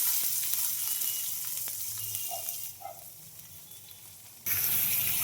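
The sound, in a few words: chopped onions and green chillies frying in oil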